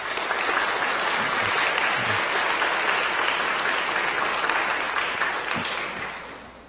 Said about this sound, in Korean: 여러분들 인사드릴 때 따뜻한 환영의 박수 부탁드리겠습니다.